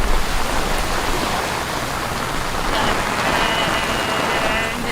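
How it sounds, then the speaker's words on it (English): Heavy rain falling outdoors in Miami, a dense, steady hiss of drops on surfaces, loud and continuous with no pauses. "No, it's raining."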